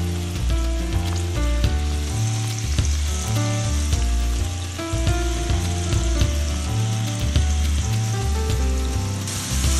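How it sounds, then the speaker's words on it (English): Red bell pepper and ham sizzle in olive oil in a hot skillet, a steady crackling fry throughout that is layered under loud, dense background music. "We have got the red bell pepper and the ham mixed up, sizzling really good."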